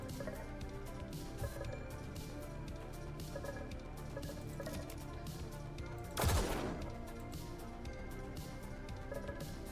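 Gunfire in a battle in the video game Echoes, a Lucid9 fangame, sounds as a quiet, rapid stream of regular shots, with one louder burst partway through.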